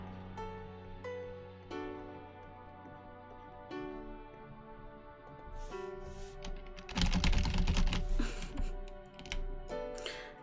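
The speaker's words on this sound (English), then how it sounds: "just type mumbo jumbo on the keyboard" Fast, uneven tapping on a computer keyboard in a bursty rhythm, growing into a dense flurry of keystrokes, set against a soft sustained musical background.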